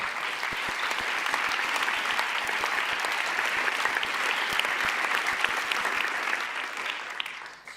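Audience applause at the closing ceremony of a film festival, a steady dense clapping from a large crowd that holds evenly for several seconds, then begins to fade at the very end.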